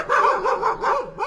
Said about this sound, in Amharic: ቆይ ውሻዋ እየመጣች ነው።